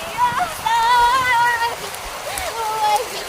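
Heavy rain pours in a steady, loud hiss, with voices and tonal chatter rising over the constant wash of falling water.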